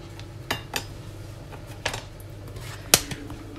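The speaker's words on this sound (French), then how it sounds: "je vais juste couper en tout petits morceaux" Knife cutting Comté cheese into small pieces, a few sharp, separate taps of the blade on a board, close and fairly quiet against a low background hum.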